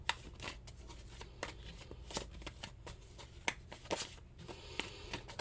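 A fairly new tarot deck being shuffled by hand, soft riffling and flicks of cards repeating at close range, quiet and with no voices.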